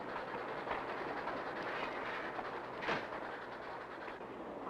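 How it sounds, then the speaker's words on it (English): A train rolls through high mountain country, its continuous rumbling, clattering roar holding steady and fairly close, with a few sharper clacks standing out and no voices. "The train made this trip high up in the mountains"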